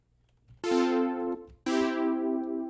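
An 80s-style synth saw chord patch plays two sustained bright hits whose upper harmonics sweep down as a low-pass filter closes, each note held about a second with a short gap between.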